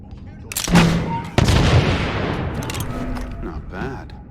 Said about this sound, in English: time for the guillotine gun